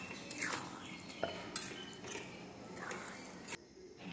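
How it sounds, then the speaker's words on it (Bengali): Spoon scraping and clinking against a pan while masala spices are stirred and fried in oil, with soft sizzling and intermittent scrapes close by, quiet speech faintly underneath. "ভালোভাবে মশলা নাড়াচাড়া করে নেব"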